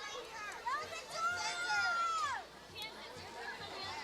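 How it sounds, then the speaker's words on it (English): Crowd at a Halloween parade on Market Street in Bangor, Pennsylvania, with lots of children: lively yelling and high children's shouts and cheers over a steady background murmur, with distant voices, fairly soft and continuous. "I hear the crowd yelling for Victoria."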